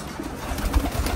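Pigeons cooing in a racing-pigeon loft, with soft low coos and rustling mixed into a steady, fairly close ambient murmur.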